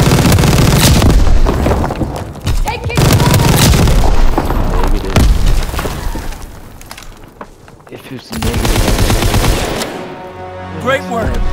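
Heavy gunfire and booming explosions fill a Call of Duty WWII battle, dense bursts of rifle and machine-gun fire rolling continuously with brief lulls, shouted voices mixed in under the loud combat.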